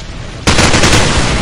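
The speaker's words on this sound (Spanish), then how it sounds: "Intercambio de disparos" Automatic weapons fire erupts abruptly in a Call of Duty 4 match at a competitive tournament, a loud, dense burst of rapid shots that continues for about a second after a quieter lead-in.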